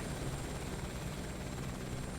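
A steady, even helicopter rotor and engine drone from the cockpit in Microsoft Flight Simulator 2024, faint and unbroken with no talking.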